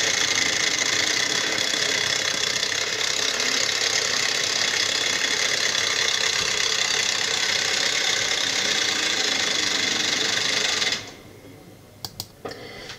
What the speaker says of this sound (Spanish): Ya veis ahí cómo suena la cadena de distribución.